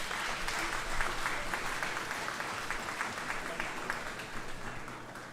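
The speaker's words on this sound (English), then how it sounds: "I'm certain you can do better than that in terms of the applause" Audience at a dairy goat industry symposium claps continuously, a full, even patter of many hands that slowly tapers off.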